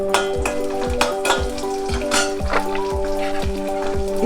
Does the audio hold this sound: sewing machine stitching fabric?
no